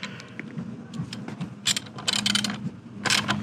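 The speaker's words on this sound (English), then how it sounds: "I will finish tightening these others up, just getting them good and snug." Bolts are tightened by hand on a Honda PCX150 scooter during a rear tire replacement. Close, quick metallic ratchet clicks and tool scrapes come in short bursts over a low hum, with no talk.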